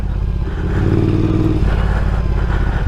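Scrambler motorcycle riding off-road, its mid-pitched engine droning steadily and loud close by, with a brief rise in revs partway through and some clatter over rough ground.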